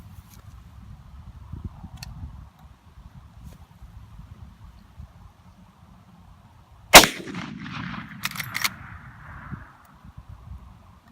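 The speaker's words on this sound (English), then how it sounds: "Now it's just time to pull the trigger." A single loud rifle shot cracks outdoors against a low wind rumble, followed by a ringing echo that trails off over a few seconds.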